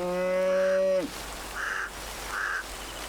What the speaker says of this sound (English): These wild cattle are called Ghats.